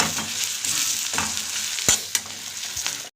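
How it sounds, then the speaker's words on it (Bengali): Onion fries in hot oil that was used for frying prawns, with cumin and bay leaf added, giving a steady close sizzle broken by a few sharp stirring scrapes before it stops abruptly. "প্রথমে আমি জিরে আর তেজপাতা ফোড়ন দিলাম এবং একটা মাঝারি সাইজের পেঁয়াজও ভেজে নিই"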